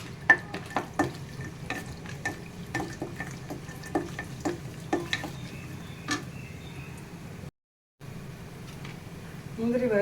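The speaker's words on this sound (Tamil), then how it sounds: "நெய் விட்டுட்டு இந்த முந்திரி திராட்சை கொஞ்சம் வறுத்து வச்சுக்கலாம்." Cashews and raisins roast in ghee for semiya kesari, with a low sizzle broken by repeated spoon taps and scrapes against the pan, close by, then a brief silence before it resumes.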